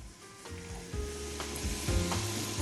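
Four large sliced onions tumble into a pan of browning chicken for Algerian shorba, bringing a soft, steady sizzle with a few spoon knocks and stirring scrapes, fairly quiet and close.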